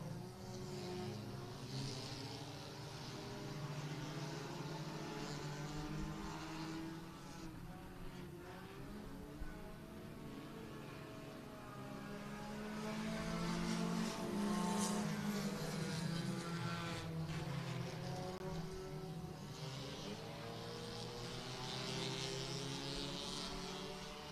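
Race cars roar around a speedway oval during a heat race, engines swelling and fading as the pack passes at a distance in a steady, continuous drone.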